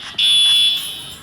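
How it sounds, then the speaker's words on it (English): A fire alarm sounds indoors, a loud, steady, piercing electronic tone that rises suddenly and holds, then eases slightly at the end, with no talk over it. "Or let's just pull the fire alarm."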